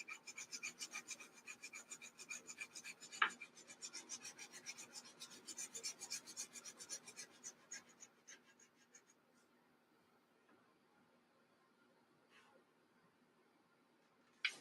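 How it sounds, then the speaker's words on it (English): Seams on a 1/72 Monogram B-36 plastic model kit sanded and buffed by hand, making a rapid, close raspy rubbing that runs steadily for several seconds and then fades to near silence with a few faint touches. "I'm just buffing out these seams best I can."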